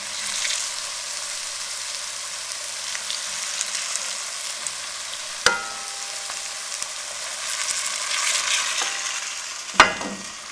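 Gram flour khandliyan frying in a pan, giving a steady close sizzling hiss with a few sharp knocks of a utensil, no talking.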